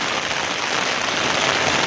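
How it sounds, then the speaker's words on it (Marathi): Heavy rain pours down in a dense, unbroken roar, loud and close, with no voices. "पाऊस जोरात आला"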